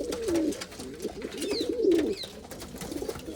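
Fantail pigeons coo steadily in low, throaty, rolling phrases close by, with a faint chirp or two higher up.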